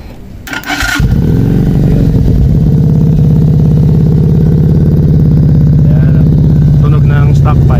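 A motorcycle on its stock exhaust pipe fires up after a brief clatter and settles into a loud, steady, throbbing idle right up close, with no talk over it.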